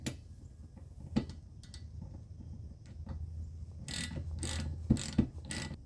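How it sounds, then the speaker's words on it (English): A 1/2 inch ratchet wrench tightens a nut while replacing the wiper blade on a 2014 GMC Acadia, giving sparse clicks at first and then a run of quick, close ratcheting clicks. "put the nut back on, and then tighten it up with your 1/2 inch wrench again"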